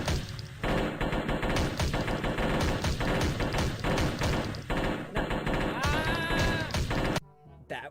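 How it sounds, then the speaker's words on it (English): Video game gunfire rattles out as loud, rapid bursts of shots in quick succession. A thin whistling tone rises briefly near the end before the shots cut off. "they're trying to reenact an actual gunshot"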